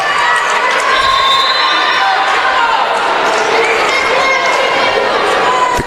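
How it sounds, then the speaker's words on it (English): A packed volleyball gym during a college match roars with a loud, continuous crowd noise of cheering and shouting, dense and steady throughout, with a few sharper calls rising above the din. "This is an extremely loud gym right now"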